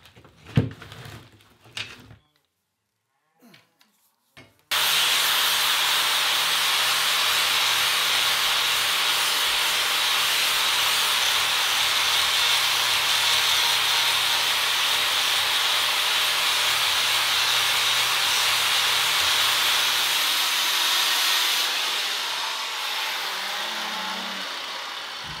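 Pitted metal Series 1 Land Rover parts being buffed, a loud steady whirring hiss that starts abruptly after a few quiet knocks and runs on, easing slightly near the end.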